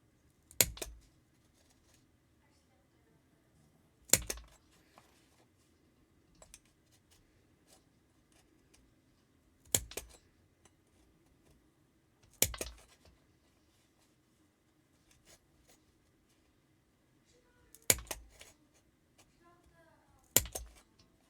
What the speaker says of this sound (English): And now I have all the holes cut out where I can do my stitching.